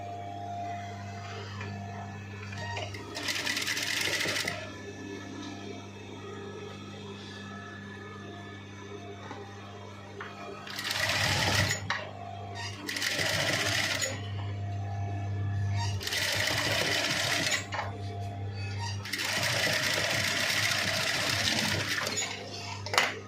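Sewing machine stitching a dress, several bursts of steady mechanical whirring lasting a few seconds each, separated by pauses over a low background hum, with no clear talking.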